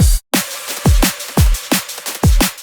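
Drum and bass drum bus with distortion, saturation and sidechaining: hard-hitting kicks and crunchy, bright snares drive a fast, steady groove, loud and close, with denser high-end grit filling the spaces and no talking.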